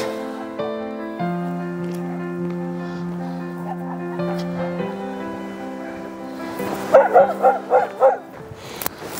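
Dogs at a dog ranch, a short burst of several quick yipping barks near the end following sustained tonal humming notes, fairly close.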